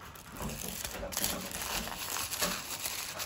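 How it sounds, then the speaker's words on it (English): Layers of tissue paper are pulled up toward the middle for a festive craft, giving a soft, continuous crinkling and rustling close by, with a few slightly louder crackles. "It's quite fiddly to get the layer at a time and pull that to the middle."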